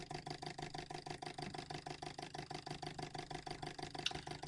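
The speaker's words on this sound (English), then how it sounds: "the motor's been running for about 5 minutes now" A Bedini motor runs steadily with a fast, regular pulsing hum, a continuous even drone at low level with one faint click near the end.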